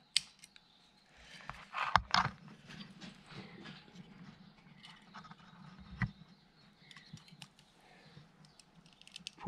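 Short wire pieces being snipped with cutters for a hook on a 40 series wiper motor brush, giving a few sharp close clicks and snaps among quieter handling noises, no talking.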